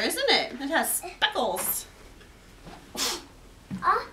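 A sneeze bursts out amid a farm conversation about speckled turkey feathers, a short sharp broadband burst near the middle, with talking before and after.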